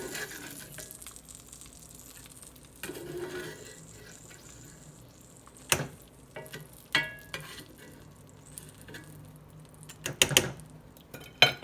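Ingredients for a from-scratch mole salsa fry in a pan with a soft sizzle, punctuated by sharp clinks and scrapes of a utensil against the cookware, close and fairly quiet.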